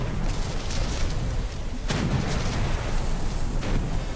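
Ship cannons firing a broadside in a pirate video game, booming blasts over a dense roar of sea and battle noise, with a sharp crack near the middle.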